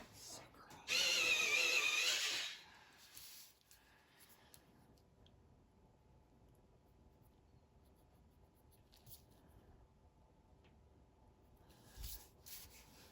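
A canary yellow coloured pencil is sharpened in a quick grinding burst of about a second and a half near the start, followed by quiet handling noise and faint speech.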